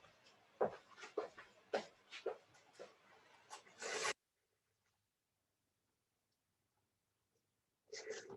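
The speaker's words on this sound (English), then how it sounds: "I'll just take these and sharpen them." Pencils being sharpened by hand give a close, dry scraping and rasping in quick repeated strokes for about four seconds, then silence, then a brief final burst of scraping.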